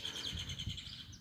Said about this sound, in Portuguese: Olha aí, canarinho da terra.